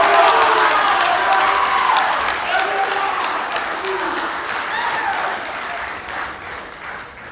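Applause and cheering from an audience at a Pasifika Fusion performance event, a dense, loud wash of clapping with whoops and shouts riding over it throughout, easing slightly toward the end.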